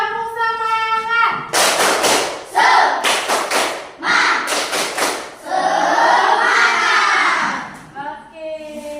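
A classroom of pupils and their teacher does a rhythmic spirit clap, loud bursts of group clapping in patterned sets and chanting voices joining in between the claps.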